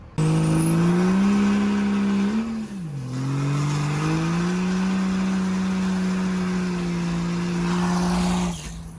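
A 6500-pound truck on street-tread tires drones steadily as it drives and turns around. The engine pitch sags briefly midway, then holds even before cutting off near the end.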